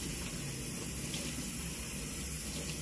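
Water runs steadily from a tap as leaves are rinsed, a continuous close gush with no talking.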